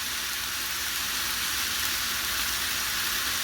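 Fried rice with eggs sizzles steadily in a hot pan, a loud, continuous, even hiss with no talk over it.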